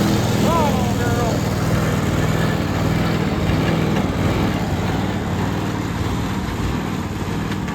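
An old lawn mower engine with a knocking rod runs steadily and rough close by, a throbbing low drone with some faint voices murmuring over it.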